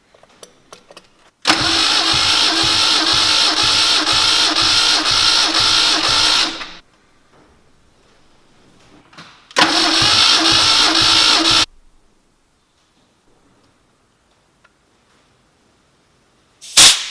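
An Alfa Romeo 105 engine cranking on the starter during a compression test: two rhythmic bursts of rapid, evenly pulsing churning, the first about five seconds long and the second about two, separated by quiet, then a brief final burst.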